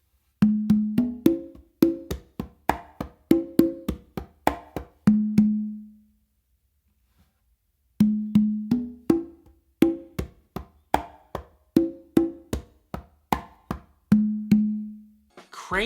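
Hand-played congas running through a complete funk melody tumbao twice, quick slaps and bass strokes mixed with ringing open tones, separated by a roughly two-second pause; steady, close, solo drumming with no speech.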